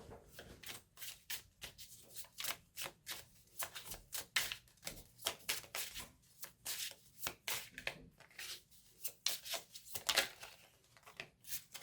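A tarot deck is shuffled by hand in quick, irregular bursts of riffling and sliding cards, close and crisp, with brief pauses between runs.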